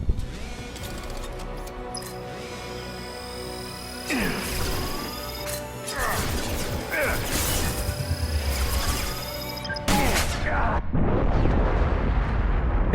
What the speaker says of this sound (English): Enjoy a massive explosion, boys.